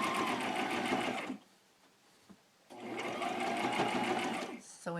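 A sewing machine stitches needlework onto a cloth bag in two close bursts of rapid, whirring needle clatter separated by a brief quiet pause, with a voice talking nearby.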